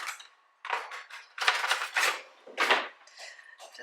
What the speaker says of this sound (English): Just gonna chop it up a bit